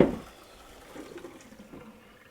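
Hot water is drained off cooked bulgur wheat and lentils, a brief gush of pouring liquid at the start that tails off into faint trickling, close, with no speech.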